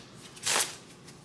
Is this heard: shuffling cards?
yes